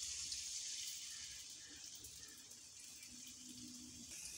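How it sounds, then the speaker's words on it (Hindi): Chicken pieces frying in hot oil, a steady faint bright hiss that holds throughout, no talk. "अब हम लोग 1 बाय 1 पीसेस जो हैं इसके अंदर डाल रहे हैं"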